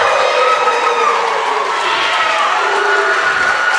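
A high school volleyball crowd at a Pulaski versus SHS match cheers and shouts loudly and steadily, a dense roar of many voices filling the gym.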